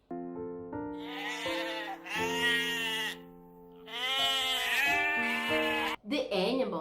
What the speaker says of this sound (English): Oh, a beautiful sheep.